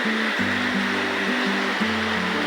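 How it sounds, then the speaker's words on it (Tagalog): River water rushing steadily close by, a broad continuous wash with a low droning hum running beneath it. "Yan yung ilog"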